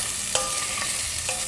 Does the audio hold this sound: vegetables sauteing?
yes